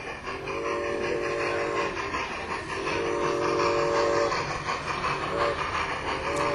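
A garden railroad model train runs at a swap meet held in a home, with a steady rumbling roll and a few sustained whistle toots rising over it, fairly close and alone.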